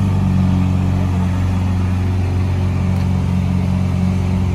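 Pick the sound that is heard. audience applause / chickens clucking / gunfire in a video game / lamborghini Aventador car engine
lamborghini Aventador car engine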